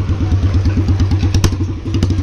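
Royal Enfield Bullet 350 with a free-flow L-bend exhaust idling close by, a deep, loud, rapid thumping beat with clattery mechanical noise on top.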